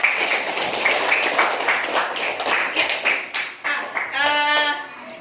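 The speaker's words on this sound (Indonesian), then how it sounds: "Terima kasih dan tepuk tangan untuk kita." A school class claps hands together in a brief, uneven burst of taps, followed by a short voiced sound near the end.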